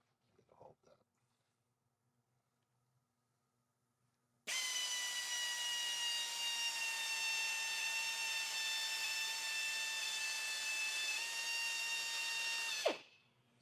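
A reamer bores through a transmission valve body in a 700 hp Tundra AB60 build, giving a loud, steady tonal whine for about eight seconds after a few faint clicks, then stopping abruptly.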